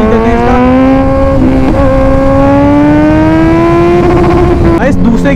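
A Kawasaki Z900 motorcycle at full throttle on an empty road, its engine wailing loud and close in a steady rising pitch with a brief gear change near the end and wind rushing throughout.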